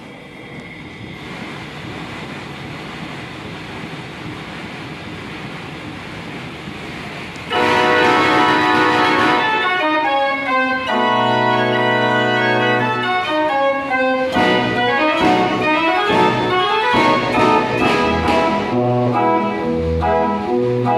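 A Ruth mechanical fairground organ at a museum plays a waltz: bright sustained chords and melody come in loud after a quieter, noisy opening and fill the rest of the passage alone, with no voices.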